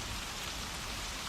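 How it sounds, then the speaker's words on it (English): Heavy rain pours down in a steady, dense, loud hiss with no breaks and no voices. "In fairly short order, the rain came down harder and faster."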